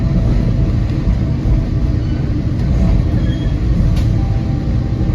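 Steady loud rumble of an Amtrak passenger train in motion, train 305 bound for Chicago Union Station, a constant low roar with faint rattles and no talking.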